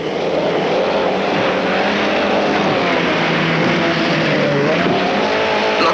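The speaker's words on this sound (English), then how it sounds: "The watch has been attached to a Chrysler outboard motor just above the propeller" A Chrysler outboard motor drives a boat hard through churning surf, its loud, continuous engine drone wavering in pitch over rushing water, close and unbroken throughout.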